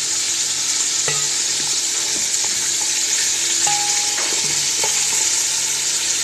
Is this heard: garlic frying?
yes